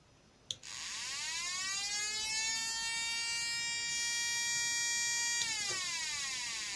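Homemade two-transistor air raid siren circuit switching on with a click, then a loud electronic wail that rises steadily in pitch and holds steady for about five seconds before cutting off with another click.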